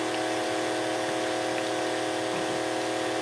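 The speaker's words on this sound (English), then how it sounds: "Feel free to turn the noise down of your video while I'm mixing." An electric mixer whirs steadily in a macaron mixture, a loud, constant, close buzzing drone with no pauses or talking.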